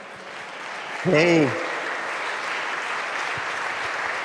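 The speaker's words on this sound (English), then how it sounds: "Please give him a big round of applause." Audience at the re:publica 2023 conference applauds with a steady, dense wash of clapping throughout, and one voice calls out briefly near the start.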